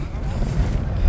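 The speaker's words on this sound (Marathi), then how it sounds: "कसला वारा सुटलाय बघा भावांनो." Strong wind roars across the summit of Kalsubai Peak in Maharashtra in the cold pre-dawn, buffeting the microphone with a steady low rumble that swells briefly near the end.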